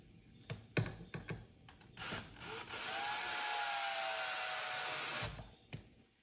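A power driver sinks one screw into a French cleat wall in a garage shop: a few sharp knocks and clicks, then a steady whirring drive of about three seconds that stops short, followed by light handling noises.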